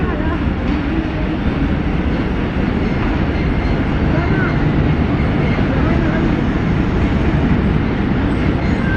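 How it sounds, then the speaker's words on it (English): Loud, continuous rumble and roar of a train rolling along the tracks through Golra Railway Station, Islamabad, Pakistan, steady throughout with no pauses. "the train moves like a cat"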